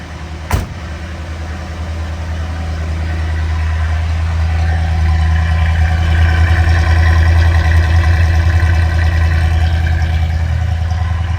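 A 1963 Ford Galaxie 500 XL idles at the tailpipe after a single sharp click, the exhaust rumbling low, close and steady, swelling slightly before holding an even burble throughout.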